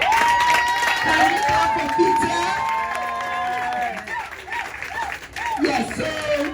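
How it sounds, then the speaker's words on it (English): A crowd applauds and cheers for a man named Peter at a ministerial address, with dense clapping running throughout, voices calling out over it and talk mixed in toward the end. "we clap for Peter?"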